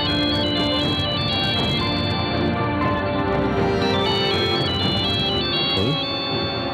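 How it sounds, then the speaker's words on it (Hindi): A mobile phone ringtone plays a steady, continuous electronic melody, loud and sustained throughout, as a call comes in during a news-channel drama. "ये तो असमत ही की फोन"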